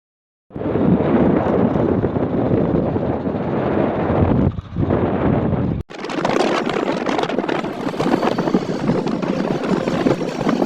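Two riders travel on a motorbike, strong wind buffeting the microphone in a continuous loud roar that drowns out the engine, with a brief dip midway and a sharper, brighter gusting after a cut.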